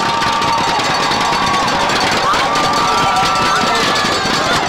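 Crowd noise at a 2003 high school football playoff between Oak Creek and West Allis Central in cold weather, a steady loud roar of voices with cheering swells throughout, a commentator's voice faintly audible under it.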